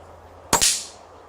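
A Weihrauch HW110 air rifle fires at an elevated hanging target in a tree during a night HFT course: one sharp, loud crack followed by a short hissing decay, alone against a quiet outdoor background.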